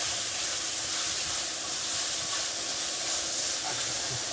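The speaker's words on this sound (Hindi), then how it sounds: "अब इसके अंदर 2-4 मिनट ज़रा भुनाई करनी है।" Spiced minced meat sizzles in a karahi while being roasted for Shinwari qeema karahi, making a dense, steady hiss that runs unbroken and close throughout, with no voices.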